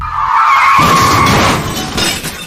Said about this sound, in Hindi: अचानक एक तेज रफ्तार ट्रक ने उसे जोरदार टक्कर मार दी